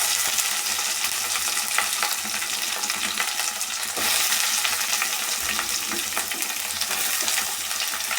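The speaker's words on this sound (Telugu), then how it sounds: "చూడండి, ఉల్లిగడ్డ వేస్తున్నాను." Sliced onions drop into a pan already holding green chillies and coriander, sizzling loudly and continuously up close with scraping stirs throughout.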